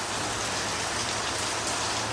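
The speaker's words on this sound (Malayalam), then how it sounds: "കാലത്ത് തന്നെ നല്ല മഴയാണ്" Heavy morning rain falls in a steady, dense hiss, close and continuous throughout with no voices.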